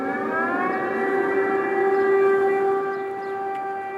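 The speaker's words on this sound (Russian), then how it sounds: "Звуки сирены теперь разносятся над городом практически ежедневно." An air raid siren wails over Odesa, a steady, sustained tone with rich harmonics that swells slightly and then eases, heard alone at a moderate distance.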